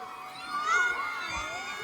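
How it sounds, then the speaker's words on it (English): A crowd of people screaming and shouting together near a fountain in Xi'an, China, a brief rising outburst with high-pitched voices swelling then easing, heard from some distance. "I just heard a bunch of screaming"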